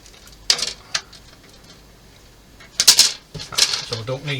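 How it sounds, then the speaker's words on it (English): Plastic model kit parts for a Matilda Mk II tank being snipped off a sprue: a couple of sharp clicks early, then a louder cluster of plastic snaps and rattles close by, with a voice in between. "So that's B sprue, so I'll better cut this off here."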